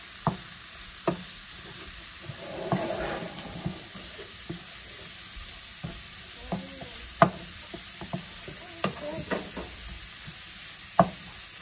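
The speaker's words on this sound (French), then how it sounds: "Je vais remuer ainsi pendant 2 à 3 minutes." Cauliflower rice with curry or turmeric fries in a pan under a soft constant sizzle, broken by irregular spatula taps and scrapes as it is stirred.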